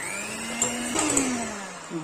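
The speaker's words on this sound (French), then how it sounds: "Et je vais utiliser le batteur électrique." An electric hand mixer whirs steadily as it beats cake batter for an apple and almond cake, a loud, continuous motor drone whose pitch sags and shifts slightly as the beaters move through the bowl.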